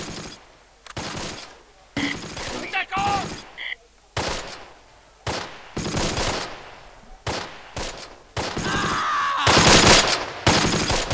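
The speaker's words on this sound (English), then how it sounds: "They're taking pot shots at the enemy now." Rifle and machine-gun fire in the WWII strategy game Close Combat, Last Stand Arnhem: repeated sharp volleys and bursts of automatic gunfire in loud clusters, with brief quieter gaps between them.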